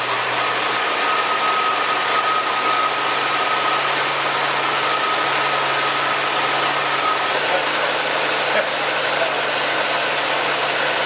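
A 1974 Ford Bronco engine idles steadily after its first start-up following a clean-up, a loud, even mechanical hum with a faint whine held throughout and no voices.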